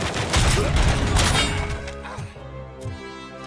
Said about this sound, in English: The noise this gun makes.